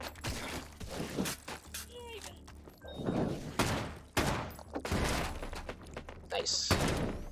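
Gunfire in the VR shooting game H3VR, a series of sharp close shots spread through the clip, mixed with game sounds and a voice talking over them.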